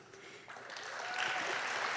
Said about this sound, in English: Claps to them, yep.